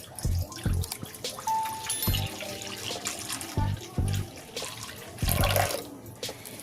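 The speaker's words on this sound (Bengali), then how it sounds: "এই এক কিলো দুধ কোড়ার মধ্যে ঢেলে দিচ্ছি" A kilogram of milk pours into a cooking pot for carrot halwa, coming as several short splashing gushes of liquid close by, separated by brief pauses.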